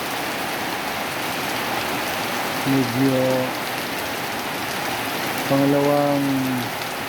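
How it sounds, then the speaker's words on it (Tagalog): Heavy rain pours steadily onto the grounds of Dawit Elementary School, a constant dense hiss that fills the whole clip, while a voice speaks briefly twice over it. "are having experience heavy rains ngayon sa school natin guys"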